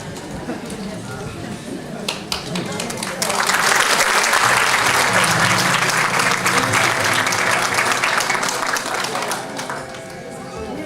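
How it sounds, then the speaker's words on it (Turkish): Audience applause at a stage musical, scattered claps with chatter and voices at first, then swelling into loud, sustained clapping from the whole crowd that tapers slightly near the end. "Alkışı çok istiyorlar galiba."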